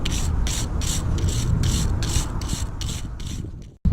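Ratchet clicking steadily as brake caliper bolts are tightened on a BMW during a disc and pad install, a brisk run of about eight rhythmic bursts, close and fairly loud, ending in a brief pause and a sharp knock.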